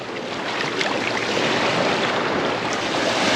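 Waves of the Sea of Marmara wash onto a beach in a steady, loud surf roar with some wind noise on the microphone.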